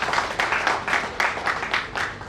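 An audience at a foundation's founding-day event applauds, a crowd clapping in loud repeated bursts with a slight pulsing rhythm.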